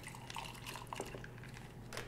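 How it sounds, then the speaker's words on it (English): Whiskey poured into a highball glass over muddled orange and cherries, a brief, faint trickle and dripping splash heard close up. "pour in your whiskey"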